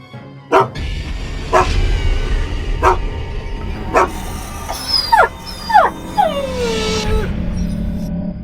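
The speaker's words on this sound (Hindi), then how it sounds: "तभी झाड़ियों में से एक कुत्ता बाहर आता है।" In an animated Hindi horror story, an injured dog emerging from bushes barks four times at roughly one-second intervals, then gives several high, sliding whimpers and yips, close and fairly loud over a low background rumble.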